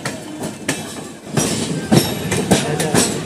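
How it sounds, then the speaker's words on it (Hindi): Two passenger trains running side by side on an Indian railway, heard from aboard the Udhyog Nagri Express: steady rumbling wheel noise with rhythmic clickety-clack joints and a broadband rush, loud and continuous throughout. "दोनों ट्रेनें चल रही साथ ही साथ"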